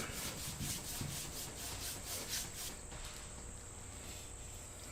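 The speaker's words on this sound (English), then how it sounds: "Rub the stain, and then you could work your way up." A rag rubs wood stain along a floating box display shelf in steady back-and-forth strokes, a soft close scrubbing texture that runs continuously and alone.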